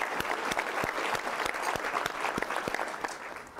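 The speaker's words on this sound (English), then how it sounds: "please give all of those sponsors a round of applause" Steady, full applause from a civic audience honoring sponsors, many hands clapping densely and continuously with a few sharper individual claps standing out, fairly loud and close, no talking over it.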